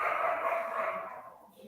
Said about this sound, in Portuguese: Agora, tem um cachorro latindo.